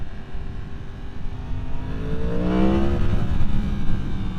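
Engine of a 2023 Yamaha MT-10 with an ECU flash, heard while riding. A steady drone swells as the throttle opens, then a quick-shifter change gives a rising, stepped rev, all over loud wind noise.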